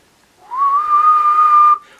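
A single sustained whistled test tone through a two-transistor electret microphone amplifier, rising briefly then holding a steady pitch for over a second before cutting off, loud and alone.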